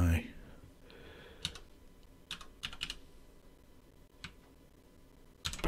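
Fingers tap a computer keyboard in short, irregular bursts of crisp clicks at close range, entering a password at a web browser login screen, with quiet pauses between keystrokes.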